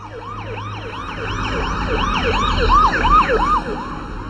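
Police siren wailing in fast repeated up-and-down sweeps, growing louder as it approaches over low road rumble, with no talk.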